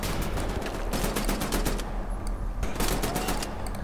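Rapid automatic gunfire from the video game Wolfenstein The New Order, loud and close, in dense bursts with short gaps and a faint ringing tone between volleys.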